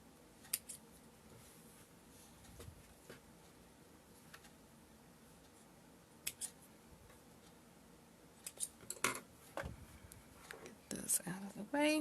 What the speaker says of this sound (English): So now I'm going to just be cutting my threads here.